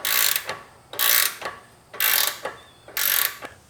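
Hand ratchet loosening a rear camber adjustment bolt on a 2011-2014 Chrysler 200, four close, loud clicking strokes in an even back-and-forth rhythm with brief pauses between, no talk.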